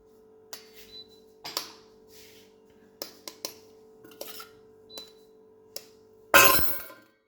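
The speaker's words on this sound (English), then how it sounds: "I want to crack an egg" Egg tapped against a bowl edge during chocolate cake baking, a handful of separate sharp clicks and knocks spaced apart, ending in a louder cracking burst up close.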